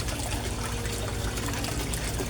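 An aquarium aerator and submersible pump keep water bubbling and churning in a steady, continuous gurgle and trickle, close by and moderately loud with no voices.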